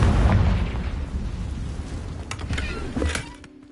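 A Confringo blasting spell detonates in the Hogwarts Legacy video game, opening with a loud, low boom that trails into rumbling debris, crackling pops and a few sharp bursts before fading, with no voices.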